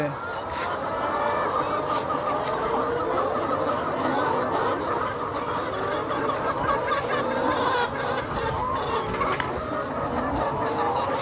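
A dense flock of layer hens clucking nonstop, many overlapping calls forming a steady, close, busy chorus, on a very hot day.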